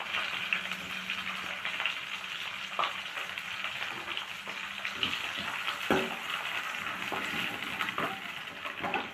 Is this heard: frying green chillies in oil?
yes